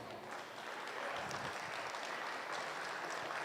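Crowd clapping for the intermediate showmanship contestants at a youth fair commercial heifer show, a steady, moderately distant round of applause that holds even for a few seconds.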